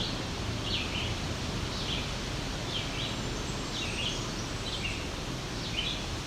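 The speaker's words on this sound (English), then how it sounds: "Some kind of bird over here that is doing a very high-pitched whine at the end of its song." Short, high, thin bird phrases repeat about every second over a constant rustling wash of wind, the calls faint and distant.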